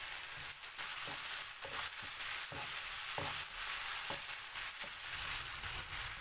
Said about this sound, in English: Cook this in the oil for at least 1 minute until the raw smell of ginger garlic paste disappears.